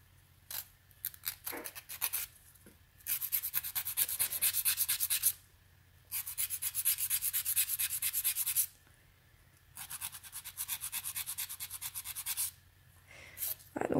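A nail file scraping an artificial fingernail extended on nail forms, heard as close bursts of rapid rasping strokes separated by short pauses, with no talk.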